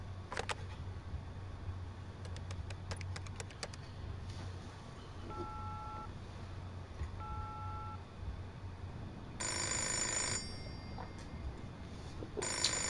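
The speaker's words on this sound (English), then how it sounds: "Phone." A telephone rings in short electronic bursts, near and fairly clear against a quiet room with a low background hum, with a louder ring toward the end.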